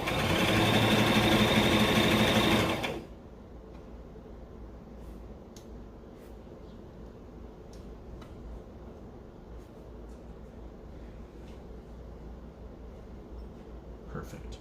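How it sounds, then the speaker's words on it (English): A sewing machine runs steadily while stitching parts of a dress, a loud even whir for about three seconds that then stops, leaving quiet room tone with a few faint clicks. "is this the correct stitch I should be doing?"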